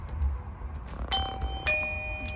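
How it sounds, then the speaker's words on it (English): A doorbell from a home video doorbell system rings in a quiet room, with two or three bright electronic chime tones sounding in succession over a low background hum. "The first one is bell."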